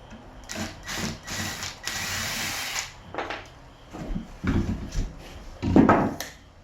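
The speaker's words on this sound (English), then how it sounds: "Let me pull those screws out of those." Power drill backing screws out of wood while prepping a mobile home for flooring, in several short close bursts separated by pauses, with scraping and handling noises between them.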